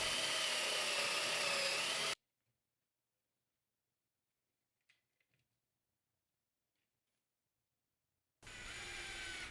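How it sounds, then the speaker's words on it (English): A power drill whirs loudly and steadily for about two seconds while drilling a hole in plywood, falls silent for several seconds apart from faint clicks, then starts drilling again. "Here in the top I'm drilling a hole"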